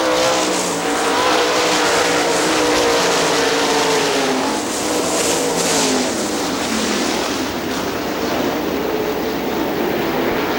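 Sprint race cars roar around Hartford Speedway Park at a Gumout Sprint Series event, a loud, continuous engine drone with pitch sweeping up and down as cars pass and jockey for position, no voices heard.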